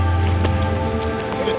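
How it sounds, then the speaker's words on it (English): Heavy rain pours down over New York City during a deluge, a steady, dense broadband hiss with no clear breaks and a faint tonal hum underneath. "A deluge of 2 months' worth of rain falling on the city in 24 hours."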